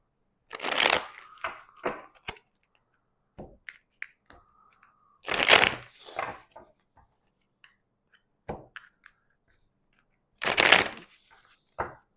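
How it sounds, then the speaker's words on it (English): Oracle cards shuffled in three bursts of riffling, each a brief loud flurry of papery flicks, separated by quieter scattered taps and card handling, no voice present. "Now we're going to take out some more oracle cards here for you."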